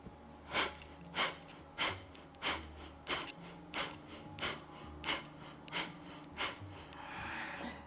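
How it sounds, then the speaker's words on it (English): Deep, forceful exhales during a live Kundalini yoga breathing exercise, about a dozen evenly spaced breaths in a steady rhythm, close and clear with no talking. "spread the energy throughout your whole body as you breathe out"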